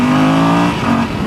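A 2016 Yamaha Super Tenere XT1200Z motorcycle in sport mode accelerates hard, its engine note rising in a close, loud, continuous pull with wind noise.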